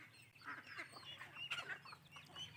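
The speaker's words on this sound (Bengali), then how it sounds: "এই যে আমার হাঁসের দল এখন বেরোবে।" A flock of ducks coming out at home, a chorus of quacks and honking calls overlapping in uneven bursts, quiet and close with no talk.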